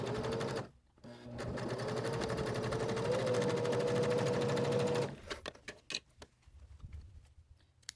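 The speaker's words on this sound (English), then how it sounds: "I'm going to put those two sections together, lining up my edges and stitching across there" A sewing machine runs steadily for about four seconds while stitching two pieced fabric sections of a Christmas ornament together, a fast, even mechanical whirr that then stops and gives way to soft handling clicks and taps.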